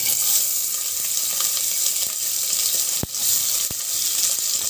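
Onions frying in a pan of oil for biryani, giving a steady loud sizzle with a few sharp clicks and bumps from the pan.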